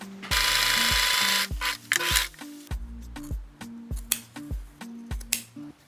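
A sewing machine stitches a seam along a line on a bag, a loud steady motor run followed by shorter stop-start bursts, with soft melodic music underneath and no talking.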